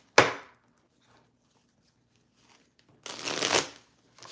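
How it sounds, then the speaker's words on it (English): Tarot cards shuffled by hand in two bursts, a short riffle-like flutter at the start and a longer, louder shuffle near the end, close by with quiet in between. "Give them a good little shuffle."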